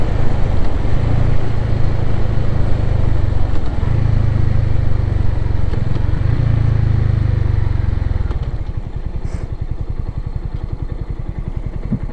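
A Suzuki TU250X motorcycle rides at night, its engine droning loud and close with rising and falling revs, then settling into a slower, lower thumping idle as it slows to a stop.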